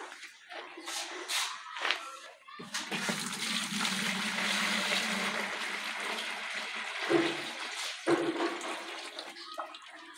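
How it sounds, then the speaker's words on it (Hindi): Water is poured into a bucket for mixing toilet cleaner, a steady rushing splash that runs for several seconds before tailing off, with brief shuffling handling noises around it. "ये फ्रेंड्स हमने पानी डाल दिया इसमें"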